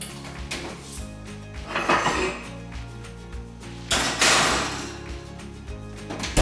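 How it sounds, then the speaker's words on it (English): A salmon sushi bake dish is slid into an oven: scattered clunks, rattles and knocks of the dish, rack and door, with sharper bangs near the start and the end. "let's go ahead and place this in the oven"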